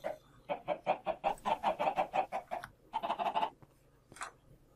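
Chickens in the video game Minecraft cluck in a quick run of repeated short calls, a brief pause, then another burst and a last single cluck, close and clear with no talk.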